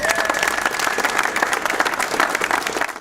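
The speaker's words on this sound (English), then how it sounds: "I'd like to have an applause for Kees." Applause from an audience at the official opening of CarbonBlue: a short, loud, dense burst of clapping from a crowd that fades out at the end.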